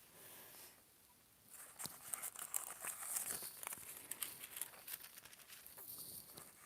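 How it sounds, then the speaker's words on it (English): Noisy paper crumpled and crinkled during list-journal crafting, starting faint and then a busy run of close, sharp crackles and rustles that continues to the end, with no talking. "Noisy paper"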